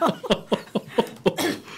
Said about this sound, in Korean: 기침을 하셨습니다